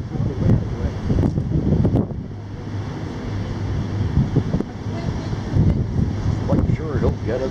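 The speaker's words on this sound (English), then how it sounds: "Oh, this morning was so windy." Steady wind buffets a microphone on a ship coming into Honolulu port, a continuous broadband rush with low gusting rumble and a faint engine hum underneath, while people talk intermittently over it.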